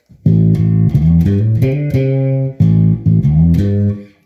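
A fretless bass in PJ pickup mode, humbucker plus J bass pickup, plays a short phrase of sustained, gliding low notes, close and full, in two repeated figures with brief pauses.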